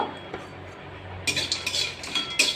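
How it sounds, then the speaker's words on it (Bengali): Cumin, dried chillies and whole spices such as cardamom, cloves and cinnamon being dry roasted in a kadai, with quiet stirring at first, then a run of close metallic scrapes and clinks against the pan. "শুকনো অবস্থা আমি এটাকে এবার গুঁড়িয়ে ভেজে নেব।"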